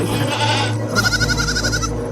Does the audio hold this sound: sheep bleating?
yes